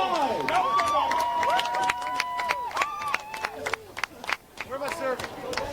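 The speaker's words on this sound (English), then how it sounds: "Margaritaville fans, clap it up. It's a set point. Let's hear it. Make some noise." Pickleball exhibition crowd at Margaritaville clapping and cheering on set point, a steady patter of applause with whoops, under loud talk and tonal sounds throughout.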